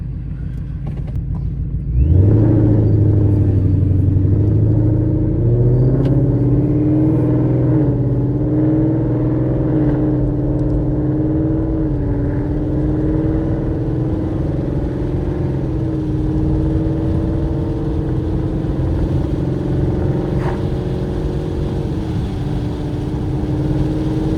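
A supercharged 2019 Ford Mustang GT with a Procharger, driven on the road, sending a loud steady low engine drone and rumble that builds as it accelerates at the start, then holds a continuous cruising tone throughout.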